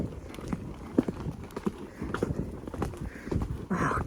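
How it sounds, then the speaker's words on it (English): A horse cantering while being ridden on a hack, its hoofbeats soft and irregular against outdoor ambience, with a brief louder burst near the end. "I'm in canter."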